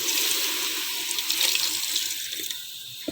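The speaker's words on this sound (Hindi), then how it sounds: "अब इसमें हम ये पानी डालने लगे हैं ताकि ये हमारा गोश्त अच्छी तरह से गल जाएगा" Water being poured from a vessel into a pot of browned mutton being cooked into a masala gravy: a short, close, steady splashing gush that tapers off near the end, with no voices.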